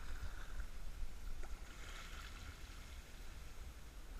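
Kayak paddle strokes on a river, with steady rushing water and faint splashes of the blade dipping in, heard up close without talk.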